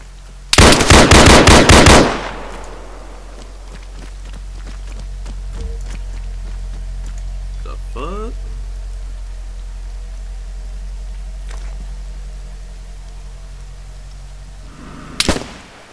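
A rapid, loud burst of automatic gunfire opens an Arma 3 DayZ Exile match, followed by a quiet stretch with faint clicks and a soft swooping tone, then a single closing shot.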